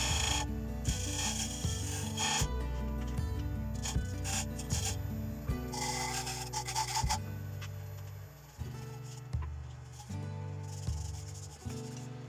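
A point tool cuts grooves into a bowl spinning on a wood lathe, giving repeated scraping and rasping strokes over a rhythmic mechanical hum, close and fairly quiet.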